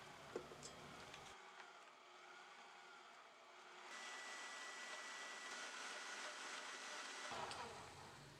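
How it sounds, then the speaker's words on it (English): A stand mixer with a whisk attachment whips two blocks of cream cheese, giving a steady, fairly quiet motor whir and whisking hum that holds for about six seconds before cutting off. "I'm going to mix this on the mixer with a whisk attachment to get some air incorporated"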